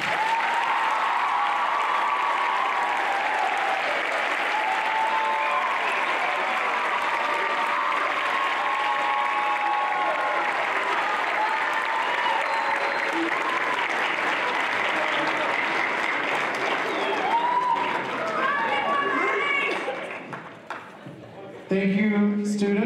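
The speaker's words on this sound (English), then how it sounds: "can we have a big round of applause for them?" An audience claps after a high school choir concert in sustained, dense applause lasting about twenty seconds, with scattered cheers and voices, before the clapping thins out and a few voices carry at the end.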